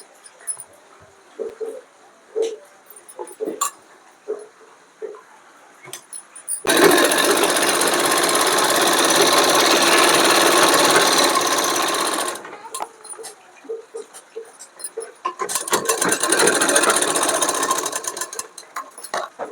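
Sewing machine stitching Patiala salwar fabric, two loud, fast continuous runs of rapid needle rattle, one about six seconds long and a shorter one after a pause, between quieter handling clicks and rustles.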